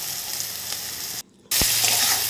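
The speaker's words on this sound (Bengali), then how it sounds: "কাঁচা পেঁয়াজ, টমেটো এগুলো দিয়ে লাল লাল করে ভেজে নিলাম" Onions and tomatoes fry with Maggi masala in a hot pan, giving a dense, close sizzle that breaks off briefly and returns with a soft stirring thump.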